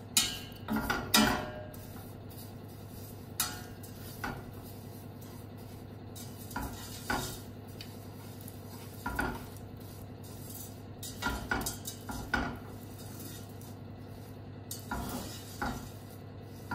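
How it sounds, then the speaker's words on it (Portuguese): Sugar caramelizing in a pan, a quiet low sizzle punctuated by intermittent scraping knocks of a utensil stirring now and then, no talking. "E agora vou dar cor aqui ao açúcar, mexendo de vez em quando."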